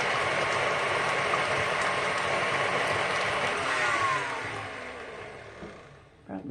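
An electric mixer beats cream cheese cookie dough, a continuous close whirring grind that fades and stops near the end, with a voice briefly over it.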